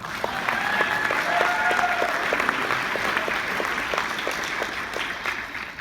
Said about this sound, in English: Let's give them a hand, shall we?